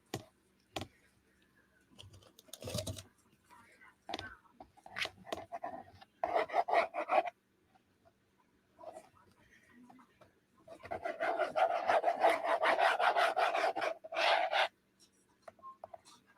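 Paper panel of an altered book being trimmed, with scattered scraping and rasping strokes followed by a sustained stretch of steady rubbing cutting, close and fairly loud with pauses between.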